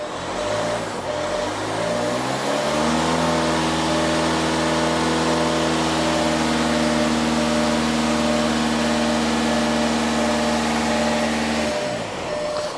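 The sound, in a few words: car engine revving during DSG gearbox oil change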